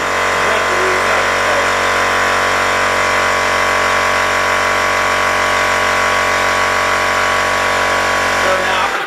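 A Parkside PPS30 B2 plasma cutter cutting metal gives off a loud, steady hiss and roar at close range. It runs unbroken for about nine seconds, then cuts off at the end.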